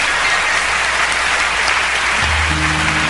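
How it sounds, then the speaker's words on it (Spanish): A congregation claps loudly and steadily in praise to the Lord during a church sermon, a dense, even wash of applause, with a low musical tone entering toward the end. "Dale un aplauso de alabanza al Señor"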